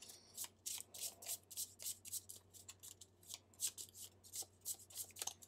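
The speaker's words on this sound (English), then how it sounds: "since we're adding a card, this is when we can give it a shuffle." A deck of game cards is shuffled close up in a quiet room. Quick, crisp riffling bursts repeat steadily in a soft rhythm with no talk.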